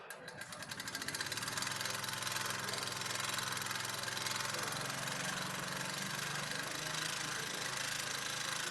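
A wood lathe spins a hollow-form vessel at about 1,500 RPM, giving a steady, continuous motor hum with a fine whirring rattle that stays even and close throughout.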